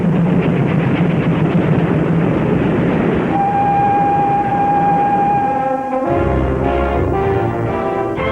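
A French train rumbles along loudly, then a sustained tone rings out over the noise before the carriage sound shifts to a deeper, slowing roll as it reaches the end of the line.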